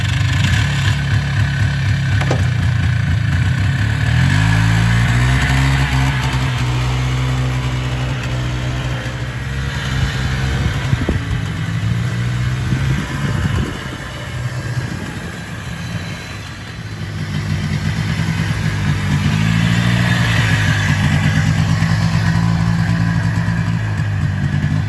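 A Polaris ATV churns through mud while hauling firewood, its engine droning and revving in waves, dipping midway before rising again, loud and close with no talk.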